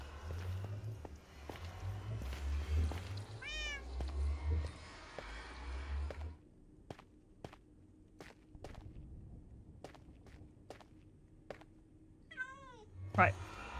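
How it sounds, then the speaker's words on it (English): A cat meows repeatedly in a hardcore-mode video game world, short rising mews over soft footsteps and sharp clicks, with a voice speaking at times. "Cat."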